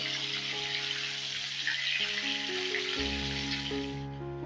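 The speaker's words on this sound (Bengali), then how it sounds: "এবার ঝিঙে কুমড়োটা হালকা করে একটু ভেজে নেব" Ridge gourd and pumpkin, seasoned with a little salt and turmeric, fry lightly in hot oil with a steady, close, continuous sizzle that runs almost the whole time before cutting off at the end, over a faint tonal background.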